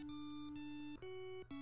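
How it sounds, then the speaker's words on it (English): Steady, harsh electronic beeping from the NES game Black Bass as a fish is reeled in, a sustained tone that steps up in pitch twice, broken by brief gaps. "What's that angry beeping noise? That's them reeling it in."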